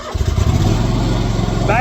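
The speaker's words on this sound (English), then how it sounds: "Now let's crank this machine up." Engine turning over and catching on a machine just backed off a trailer, its low rumble starting abruptly after a brief pause and settling into a steady, loud, close running drone with faint higher whine near the end.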